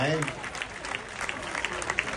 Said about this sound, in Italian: Bravi, applaudite